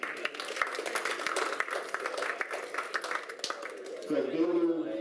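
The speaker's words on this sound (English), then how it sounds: "Give a round of applause for Port Victoria," Brief clapping from an audience at the 2014 Australian Junior Nationals under-18 singles final, given in thanks to Port Victoria. It is moderately faint and thins out before a voice begins speaking near the end.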